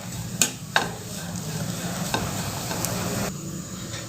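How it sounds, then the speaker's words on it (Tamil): Grated coconut and carrot sautéing in a pan, a steady low sizzle with occasional scraping stirs and light clinks of a utensil against the pan, close and continuous. "இப்போ தேங்காயோட பச்சை வடை போக ஒரு 5 நிமிஷம் வதக்கி கொடுத்துக்கலாம்."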